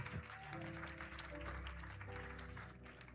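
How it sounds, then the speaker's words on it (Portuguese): A church congregation at Cathedral International applauds during a sermon, a soft, continuous patter of clapping heard faintly, with some tonal music or hum running beneath it. "Aplauda Jesus"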